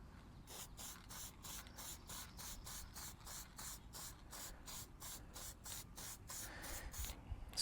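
An aerosol spray coats both sides of a paper gasket during a timing belt service on a Suzuki Every van with an F6A engine, in a rapid run of about twenty short, even hissing bursts, close and fairly quiet, with no talk.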